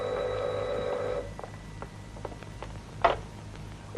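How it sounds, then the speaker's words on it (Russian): A telephone bell rings in a burst lasting about a second, then falls quiet, leaving faint scattered clicks and taps and a sharper knock near the end. "Вот опять. И по телефону я все время кто-то звонит."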